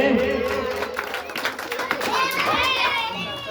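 Crowd clapping for a guest at a Ravidas Jayanti celebration, sharp hand claps mixed with children's voices and chatter, fairly close and loud throughout.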